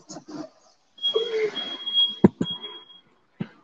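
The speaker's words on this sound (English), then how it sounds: "Now my alarm going off." A house smoke alarm gives a single high, sustained electronic tone lasting about two seconds, with nearby thumps and brief voices before and after.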